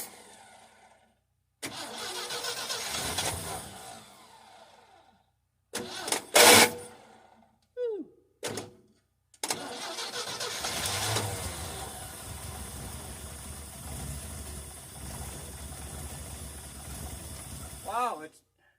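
A 1967 GMC pickup engine with a leaking carburetor cranks and starts in several attempts, with short bursts and stops, then catches and runs steadily at idle; a person speaks briefly between attempts.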